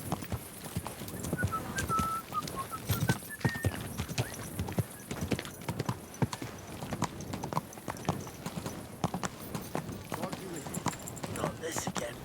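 Horse hooves clip-clopping in Kingdom Come Deliverance 2, a steady rhythmic beat of hoofsteps close by for the whole stretch, with a voice speaking over it.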